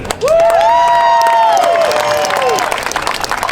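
A crowd cheers and whoops loudly at a VA rally at E54th St and Minnehaha Ave, with high voices rising and falling together over clapping.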